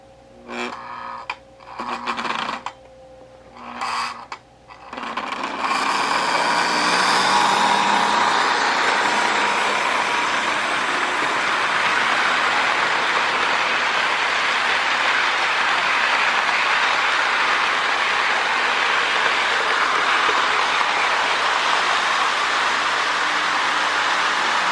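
A Lionel MPC NW2 switcher model train pulling several cars starts after a few short bursts of motor noise, then settles into a continuous close, loud whirring rumble with faint track clatter that runs steadily to the end.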